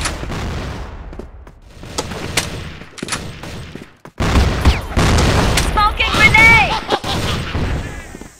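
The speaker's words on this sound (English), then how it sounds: "Flash bomb! Fire in the hole!" A flashbang grenade goes off in a tactical shooter game: scattered gunfire and impacts, then a loud, sustained blast with a ringing high tone that lingers. Voices shout over the action.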